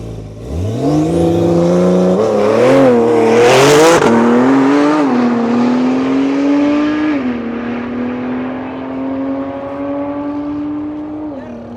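A Porsche 911 launches hard down a drag strip at a private track day, its engine roaring loud and close, climbing through several revving gear changes before holding a sustained high drone.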